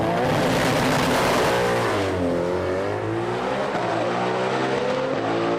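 Street-class Japanese drag cars launch side by side down the strip, a loud sustained engine roar climbing through revs with audible gear changes, close and continuous without talk.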